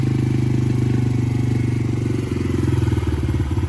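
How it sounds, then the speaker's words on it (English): A Yamaha TTR 50 dirt bike engine runs lean with a hanging idle, a loud, close, steady putter holding above normal idle throughout without settling down. "So what we're getting right now is kind of like a hanging idle"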